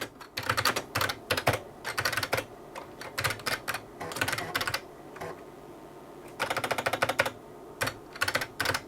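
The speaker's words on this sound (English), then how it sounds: "This keyboard, by the way, is much better than the SLT." Someone types on the keyboard of an IBM Model P70 luggable computer, with quick bursts of crisp, clacky keystrokes separated by short pauses, fairly close and moderately quiet.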